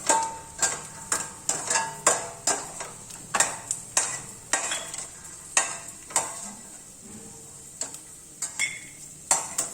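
Peanuts roast in mustard oil in a pan as a spatula stirs them in quick, evenly spaced scraping taps, about two a second, over a soft sizzle, close and clear with no talking.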